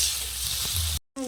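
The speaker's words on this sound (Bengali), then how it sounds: "দিয়ে ভালো করে কষে নেব মশলার সাথে।" Potatoes frying with spices in a pan for a sour fish curry, a steady broadband sizzle with stirring, cutting to a brief silence near the end before a short tonal sound.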